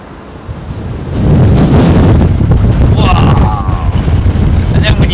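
Strong gusty wind buffets the microphone at London Heathrow Airport, a loud roaring rush that swells after the first second and stays heavy, with faint aircraft tones in the background.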